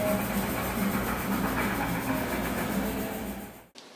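An O gauge model train runs on a large display layout with a continuous close rumble and faint rail clatter, steady throughout before cutting off abruptly at the end.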